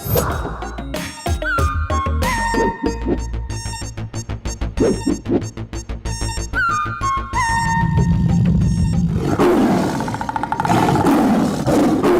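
A tiger roars in a comedy film scene, its deep rumbling roar swelling loud and close in the later part, over a busy music score.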